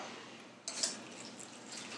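Broth is poured over ramen noodles in a pork belly ramen dish, giving a soft, close liquid splash that starts partway through and continues faintly.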